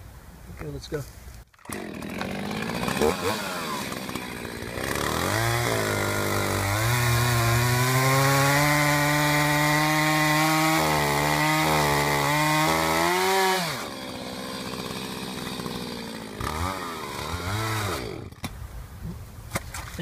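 Chainsaw revving loudly at close range with steady whining harmonics, then sputtering and dying out as its fuel runs dry, leaving brief attempts to restart; someone speaks briefly over it.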